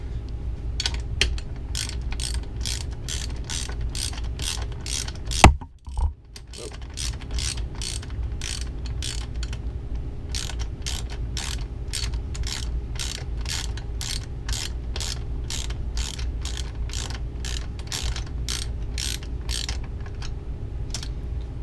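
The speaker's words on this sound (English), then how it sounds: "Get your ratchet," A ratchet with a 10 mm socket tightens Yamaha 350 ATV engine case bolts, giving fast, even clicking strokes that run steadily, close and clear, with one brief clunk partway through.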